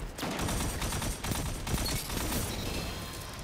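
Constant loud gunfire and a rocket blast in a Destiny 2 match form one dense wash of shots and booms that fills the whole span, with little let-up.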